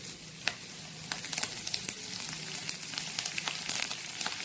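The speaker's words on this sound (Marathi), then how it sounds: "मेथी चांगली गरम तेलामध्ये उकाळलेली आहे" Fenugreek seeds sizzle steadily in hot oil being made into a hair oil, with a soft continuous fry broken by scattered sharp pops, faint and close with no talking.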